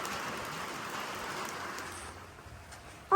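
Steady rain falling outdoors at a vehicle build site, a soft broadband hiss that thins out after about two seconds, ending in a sudden loud bump.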